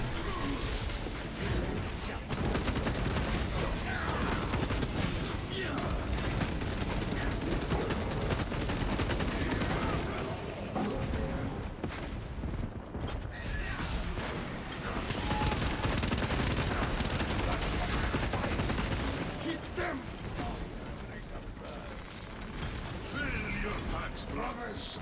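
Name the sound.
gunfire in a video game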